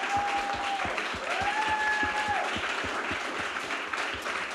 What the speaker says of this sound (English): So as you applaud the end of my speech, please applaud for Sebastian, who really had to suffer.